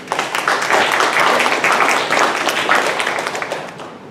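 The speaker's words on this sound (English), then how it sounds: "Big applause for Jeanne" Sustained, dense applause from an audience at a panel event, honoring a panelist; steady, full clapping that holds for several seconds before tapering slightly at the end.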